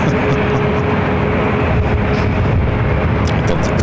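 Delta airliner taxiing and making a right-hand turn at LAX, a steady loud engine rumble and roar throughout with no break, close and continuous.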